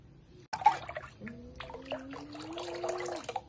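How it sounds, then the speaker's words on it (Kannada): Water is poured over hands in a kitchen while ragi is being cooked. A soft splashing trickle with a faintly rising pitch runs for a few seconds after a brief quiet start. "ಕೈಗೆ ನೀರು ಹಾಕಿ ಫಸ್ಟ್"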